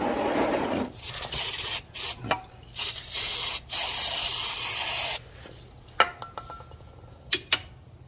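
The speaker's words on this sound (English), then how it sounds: "I'm actually just going to take some brake clean and" Brake cleaner is sprayed onto a grimy threaded shaft from an ATV in several loud, hissing bursts of varying length separated by brief pauses, followed by quieter dripping and a few sharp clicks.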